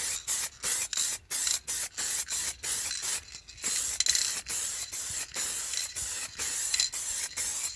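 A spray gun lays the final coat of paint on a car body panel in short, loud hissing bursts, repeated in a steady on-off rhythm with one longer pass midway.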